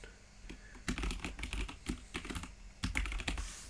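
Registration details are typed quickly on a computer keyboard, a close, quiet flurry of uneven clicks and clacks with brief pauses between bursts.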